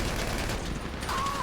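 Rapid bursts of GTA 5 gunfire crackle continuously through the short stretch, loud and dense, with a faint tone rising near the end.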